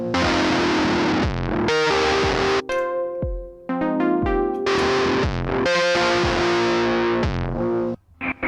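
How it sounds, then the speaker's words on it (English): A high-gain distortion preset on an Empress ZOIA pedal drives heavily saturated, sustained chords played in bursts with brief gaps, loud and close with no talking. "Sort of another high gain distortion."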